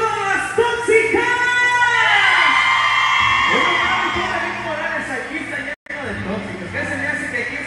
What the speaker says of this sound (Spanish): Y el grito de todas las tóxicas.